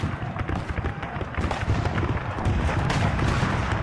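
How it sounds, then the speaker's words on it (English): Confederate cannons boom in a Civil War battle, a dense continuous roar of overlapping blasts and rumbling with no clear gaps between them. "Confederate cannons boom, and musket smoke chokes the battlefield."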